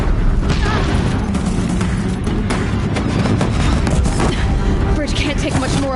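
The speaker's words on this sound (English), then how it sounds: "Deathbringers keep firing, this bridge will go." Deathbringer machines keep up heavy fire on a bridge in Horizon Zero Dawn, a dense, continuous barrage of booms and bursts with sharp cracks rising out of a loud rumbling battle din.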